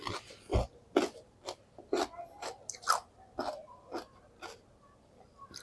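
Crisp, repeated crunching from close-up chewing of firm, juicy pickled cucumbers, bite after bite in an uneven rhythm, with no talking.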